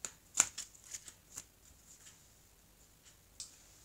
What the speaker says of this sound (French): Alors je vais donc couper le jeu